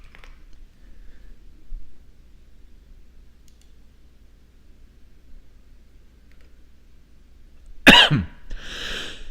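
A single sharp cough bursts out near the end after long quiet, followed by a brief throaty trailing sound, close to the microphone.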